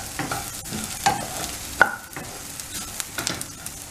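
Coriander seeds and chopped onions stirred in a hot pan for a mutton curry, a soft steady sizzle with scraping spoon strokes and a couple of sharper clicks, close and alone.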